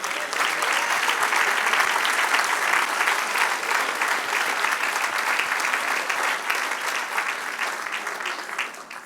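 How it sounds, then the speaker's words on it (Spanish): A church congregation applauds steadily for about nine seconds, the dense clapping loud and sustained throughout with a faint crowd murmur beneath and no break in the sound. "Dale un aplauso a Dios."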